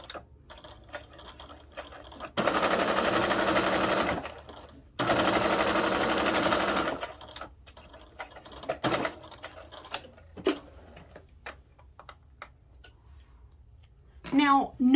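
A sewing machine runs in two steady bursts of a few seconds each, stitching a seam 1/8 inch down the side of fabric for a billfold wallet. Scattered ticks and clicks follow, and a brief voice comes at the very end.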